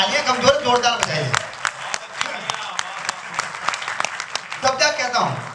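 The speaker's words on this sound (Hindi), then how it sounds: "ये काम आपकी तालियां कमजोर, जोरदार बजाइए" Audience clapping at a Hindi kavi sammelan poetry recital, a fairly loud burst of many hands with talk and voices mixed in throughout, rising again near the end.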